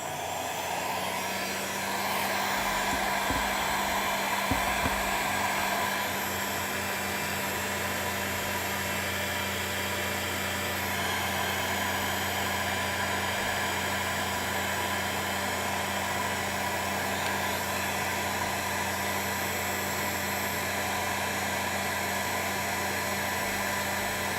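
A heat gun or hair dryer warms a Peak Design iPhone case, giving a steady, loud blowing hiss with a constant motor hum that runs unbroken from start to finish.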